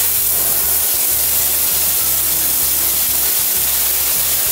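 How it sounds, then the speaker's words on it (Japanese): A steady, broad hiss of water spraying from a shower head, constant and close, with faint low rumbling underneath. "シャワー出してみます。"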